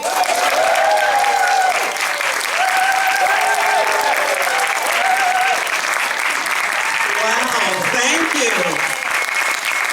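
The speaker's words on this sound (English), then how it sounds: "Thank you for that applause." A comedy show audience applauds steadily for the full stretch, loud and continuous clapping with some crowd noise, welcoming a performer to the stage, while a voice talks over it.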